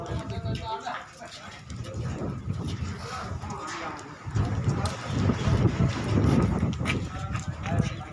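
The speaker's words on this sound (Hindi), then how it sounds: "ये देख लो, तेज हवा है," Strong wind gusting outdoors near a village refuse dump in Barmer, a steady broadband rush rising louder in the second half, with people talking over it throughout.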